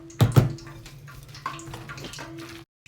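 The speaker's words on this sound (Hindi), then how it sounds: "अब इसमें हम थोड़ा सा पानी शामिल करेंगे।" Water is poured into pakora batter made with baking soda in place of egg, a gurgling trickle with a couple of louder splashes at the start, close by, fading out before a short silence.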